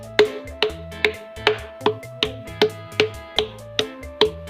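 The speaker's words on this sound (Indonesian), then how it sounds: "Ini batu gendang ini. Ini suaranya kayak gini." A stone drum in a cave, a natural rock formation struck like a drum, sounds about eleven evenly spaced, resonant knocks in a steady rhythm, each ringing briefly with a hollow tonal decay, close and clear with no talk.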